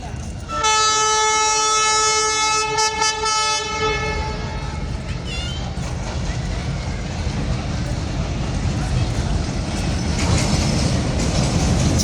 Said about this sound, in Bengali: একটা ট্রেন দেখতেছি আমরা আসতেছে।